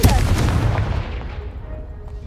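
A Confringo fire spell blasts in the Hogwarts Legacy video game: one loud, heavy explosive boom that rumbles and fades away over about two seconds.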